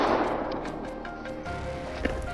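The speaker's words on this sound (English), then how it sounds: "Our team opened fire" Gunfire during a wild boar hunt in dense undergrowth: a run of muffled shots over a steady rumble, with one sharper crack near the end.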